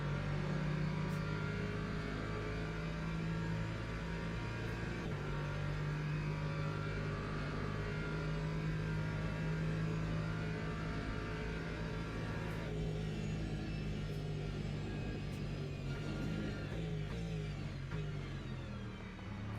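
Race cars battle on the Fuji circuit, engines droning steadily and fairly faint with shifting pitch, a continuous motorsport roar without talk.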